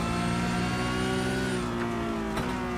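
A Porsche Carrera Cup race car in a sim racing game at Zandvoort, its engine droning loud and steady at high revs with a brief shift in pitch near the end, no talk over it.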